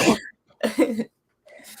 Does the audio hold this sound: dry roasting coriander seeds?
no